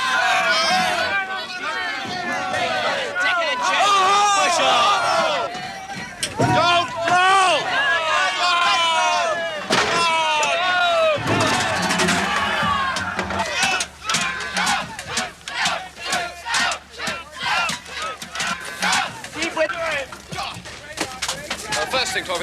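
An angry mob yells and chants in a loud, chaotic roar during a 1975 Sandhurst army riot-control exercise. Voices overlap continuously, then break into choppier bursts of shouting and scuffling.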